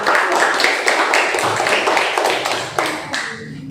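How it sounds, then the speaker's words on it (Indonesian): A classroom full of students applauding after a presentation, steady, dense clapping from many hands that carries on loudly before thinning out at the end. "Beri aplaus untuk presentasi."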